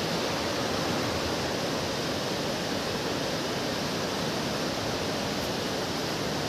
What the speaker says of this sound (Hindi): इतना ऊपर से मतलब पानी गिरते हुए आपको दिखाई दे रहा होगा